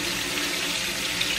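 Tap water runs in a steady, close gush while sardines are rinsed under it, with no voices.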